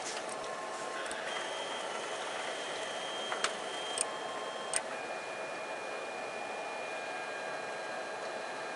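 A Monoprice Maker Select 3D printer homes all axes, its stepper motors giving sustained steady whines that change pitch as each axis moves, with a few small clicks, close and fairly quiet.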